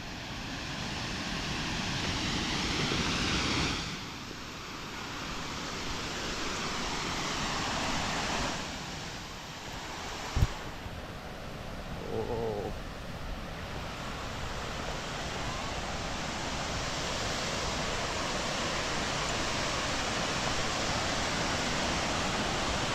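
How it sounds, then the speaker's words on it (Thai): The Tat Ton waterfall roars as a constant broadband rush of falling water, steady and fairly loud for the whole stretch, with a brief thump partway through and no talking. "ถึงแนวนี่คือน้ำตกตาดโตน"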